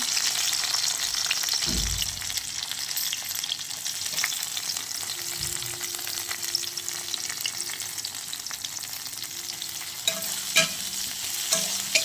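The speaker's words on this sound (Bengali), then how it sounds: "এবার আমি কিশমিশগুলো ভাজবো।" Raisins frying in a mix of ghee and white oil, a soft continuous sizzle with repeated stirring strokes and spoon scrapes against the pan, no talk.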